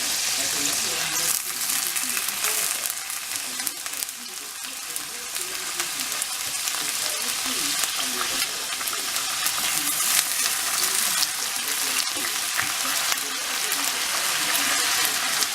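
Cabbage sizzles and crackles steadily in a hot skillet, a continuous bright frying hiss with occasional pops and stirring sounds.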